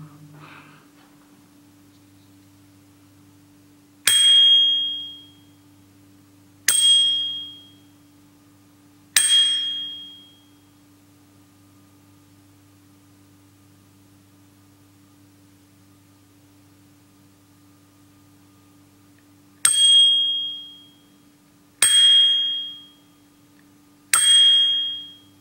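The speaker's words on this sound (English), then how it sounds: "Not the same type of bell or ringing bell, this is a bike bell." Bike bell struck six times alone in a quiet room of a ruined priory, bright ringing dings with short decays, three spaced strikes then a long gap before three more, over faint hum.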